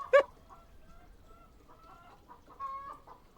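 Chickens cluck as an in-game sound inside Warframe: one sharp, loud cluck at the start, then softer scattered clucks and warbles, with another fuller burst near the end, all fairly quiet against a low background hum.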